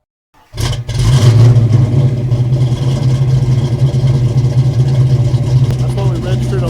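A Fox Body Mustang with a FlowMaster exhaust cranks and fires up, settling into a loud, steady, deep idle rumble that runs close and unbroken for several seconds after the start.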